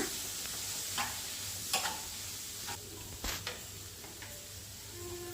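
Pigeon peas and other legumes tipped into fried onions in a pan for village-style bassaru, a soft steady sizzle with scattered clicks and scraping stir sounds, fairly quiet and with no talk.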